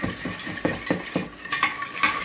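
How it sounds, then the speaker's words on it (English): A whisk beats milk into a thickening mixture in a pot with rapid, rhythmic metallic clinks and scrapes against the sides, close and clear with no talking. "You want to whisk the clumps out in the first stir."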